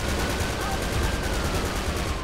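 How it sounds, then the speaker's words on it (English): GTA 5 gunfire during a McLaren dealership robbery, a dense rapid stream of shots holding steady and loud through the whole moment, with a voice occasionally audible beneath it. "they're shooting at us"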